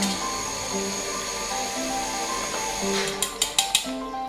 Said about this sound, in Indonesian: abaikan suara mesin air itu ya